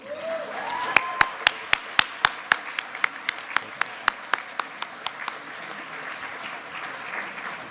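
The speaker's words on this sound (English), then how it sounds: "Let's give Mike a round of applause as well." A round of applause at a college graduate and donor reception comes as a series of crisp, evenly spaced claps, sharp and close at first, then gradually softening, over a low murmur of the room.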